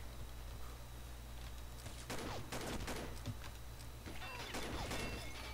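Bursts of G36E assault rifle fire from the Combat Arms video game, several short volleys of rapid shots over a steady background hum, loud and close.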